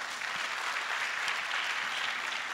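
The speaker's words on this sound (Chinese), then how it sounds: "给老板一个掌声，好不好？" An audience at a sales seminar breaks into sustained applause, a dense steady wash of clapping with no voices over it.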